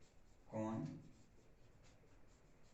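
A pen scratching on paper while writing out a Class 10 geometry construction, one short close stroke burst followed by faint light scratches, with a trace of voice.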